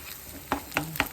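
Ube halaya made with butter and condensed milk is stirred and reheated in a pan, with three spaced scraping knocks of the spoon over a soft background sizzle.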